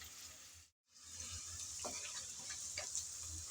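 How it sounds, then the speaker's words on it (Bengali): Onion and garlic fry in oil in a pan and are stirred while they brown, giving a soft, steady sizzle with a few light clicks. The sizzle is briefly cut by a short silent gap. "নেড়ে চেড়ে আমি হালকা ব্রাউন কালার করে পেঁয়াজ আর রসুন ভেজে নিলাম।"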